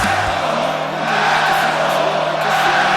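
A loud arena crowd at an independent wrestling show roars and jeers as another competitor makes an entrance, a dense sustained wall of voices close around.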